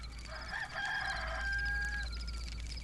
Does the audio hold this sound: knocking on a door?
no